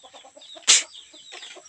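Palawan native chickens in a backyard flock, with soft clucks and calls scattered through the moment and one sharp, louder squawk or flap near the start, heard fairly close.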